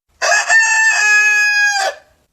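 A pet parrot mimics a rooster's crow, one clear, loud, sustained cock-a-doodle-doo lasting under two seconds, close and alone.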